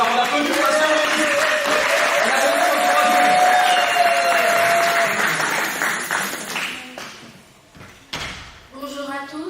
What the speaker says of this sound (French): On applaudit pour la sœur Eunice